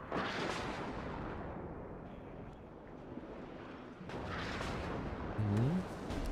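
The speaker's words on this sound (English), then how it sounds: "Artillery landing here now." Artillery shells landing in the WARNO real-time strategy game, a dense rumbling barrage of distant blasts rolling continuously, with a brief tonal whine near the end, under a commentator's voice.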